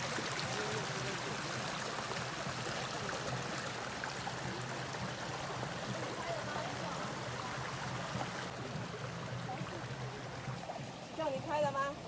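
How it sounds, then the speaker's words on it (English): Water bubbles and trickles steadily through a Japanese garden, a continuous soft stream-like flow that stays fairly even throughout, with faint voices or activity in the background toward the end. "listening to nature and the water bubbling"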